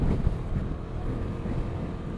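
Strong wind blowing around prayer flags in Spiti Valley, with a steady, loud, rumbling buffet across the microphone and slight gusting surges throughout.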